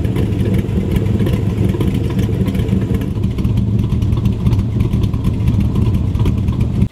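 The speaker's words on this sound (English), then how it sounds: "it's time to pull in the Corvette and see what the sound is coming out of those side pipes" A modified Chevrolet Corvette engine revs hard through side-exit pipes, a loud, continuous deep rumble with rising and falling throttle blips, close by and alone without talk.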